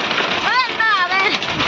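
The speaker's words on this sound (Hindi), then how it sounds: "ओले गिरने लगे हैं बहुत तेज की ओले" Heavy hail pelting down during a family camping trip in Kashmir, a dense, loud, constant patter with someone talking excitedly over it.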